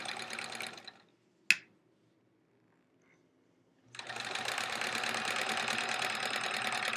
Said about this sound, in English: I'm just gonna sew along the edge here.